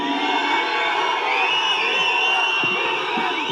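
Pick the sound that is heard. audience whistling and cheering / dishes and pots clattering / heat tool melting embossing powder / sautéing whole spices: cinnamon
audience whistling and cheering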